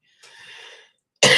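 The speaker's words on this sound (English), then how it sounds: "Makes me cough whenever I get hot." A person coughing indoors while warm after taking off a jacket: a softer, breathy cough lasting about half a second, a short pause, then a much louder, harsher cough bursting in at the end, with no talk.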